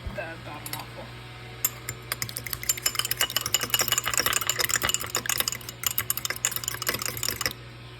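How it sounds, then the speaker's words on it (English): A whisk or utensil clatters rapidly against a bowl while mixing keto waffle batter, a quick irregular tapping rhythm at close range lasting several seconds. "I am going to start mixing up the bottom waffle"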